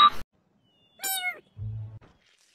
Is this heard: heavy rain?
no